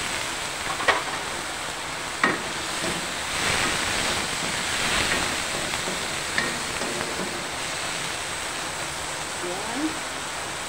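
Shrimp go into a cooking pot of bottle gourd and moringa leaves, giving a steady sizzling, bubbling wash across the whole clip with a few sharp clinks and splashes standing out.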